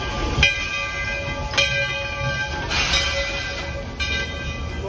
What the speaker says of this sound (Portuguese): Olha o trem que reabriu depois de 4 ou 5 anos.